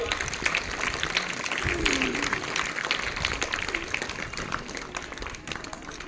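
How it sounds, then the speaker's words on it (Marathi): An audience at a primary school felicitation ceremony in Kadegaon claps in a dense, continuous ripple of many hands, steady and moderately loud throughout, with faint voices mixed into the crowd noise. "हा जोरदार टाळ्या वाजवा सर्वांनी"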